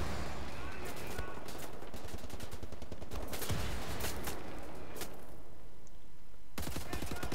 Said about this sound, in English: Do you want to stop shooting at me, please?